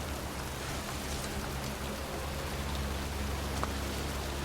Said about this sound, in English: It's cold, it's raining, I'm standing outside getting soaked.